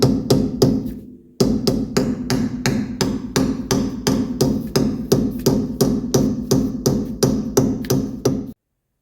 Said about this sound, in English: I have a big hammer here. I'm just gently tapping.